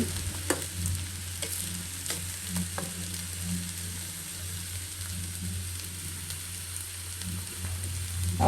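Food reheating in a pan gives a steady low sizzle and frying crackle with occasional stirring scrapes, close by and fairly quiet, with no talking.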